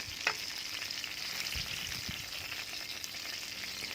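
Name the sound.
chicken frying on both sides in a very hot pan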